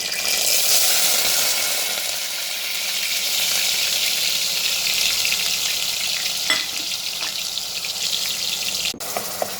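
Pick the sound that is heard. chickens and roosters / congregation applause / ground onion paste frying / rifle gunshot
ground onion paste frying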